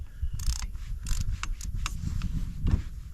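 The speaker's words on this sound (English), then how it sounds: "I know I've got a ratchet on this end" A ratchet clicks in short bursts, close by, as it turns a bolt on a generator under repair, with metallic tool noise between the strokes.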